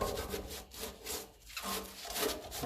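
Diesel is rubbed off a tractor fuel tap on a 1954 Ferguson 20 TEF diesel, giving soft, close scrubbing strokes in an uneven back-and-forth rhythm with brief pauses, and nobody speaking.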